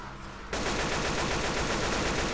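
Rapid, steady gunfire bursts against pumpkins in Left 4 Dead 2, loud and continuous after a short quiet start.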